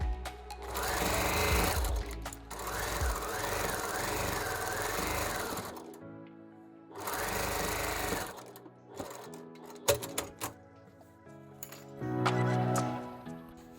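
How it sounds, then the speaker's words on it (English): A sewing machine top-stitches fabric scraps for an Easter bunny, running in several loud, steady bursts of rapid mechanical stitching separated by short pauses, with light clinks between runs. "I decided to add top stitching."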